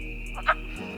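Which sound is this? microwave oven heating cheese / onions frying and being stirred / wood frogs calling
wood frogs calling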